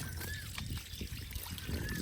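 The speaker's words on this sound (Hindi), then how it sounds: "ये देखें जी, अब इनको अच्छे से धो लेते हैं।" Salted bitter melons are rinsed by hand under water in a village kitchen, with a soft continuous trickle and splashing while faint bird whistles sound in the background.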